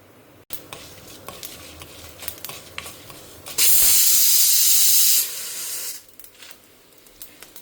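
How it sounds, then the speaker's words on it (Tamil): Mustard seeds, fenugreek and black pepper splutter in hot oil for Karnataka wedding-style thili saaru rasam, with sharp popping crackles nearby and a sudden loud hissing burst in the middle before the popping settles down. "கடுகு பொரிய ஆரம்பிச்சிருத்து, வெந்தயம் கூட கலர் சிவக்க ஆரம்பிச்சிருத்து, மிளகு கூட பொரியறது பாருங்க"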